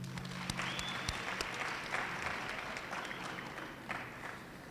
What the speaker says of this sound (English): may I request you to join me in giving a big applause to the awardees